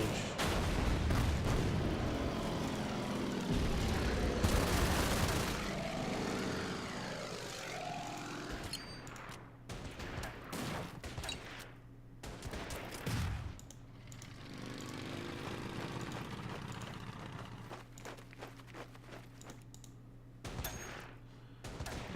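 Artillery bombardment rumbles through a session of the World War II strategy game Order of Battle WW2: heavy booming blasts and rolling gunfire sit over a droning aircraft-like hum, loud early and then continuing in irregular bursts.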